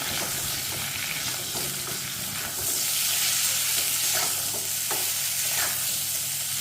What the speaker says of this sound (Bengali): পটলটাকে নাড়াচাড়া করে পটলটাকেও এইভাবে লাল করে ভেজে নিলাম